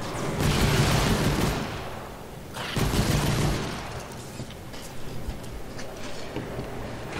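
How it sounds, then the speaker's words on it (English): A grenade blast in Fortnite, a broad roaring burst that swells and decays, followed by a second boom amid ongoing rumbling battle noise. "Let's use a grenade over there"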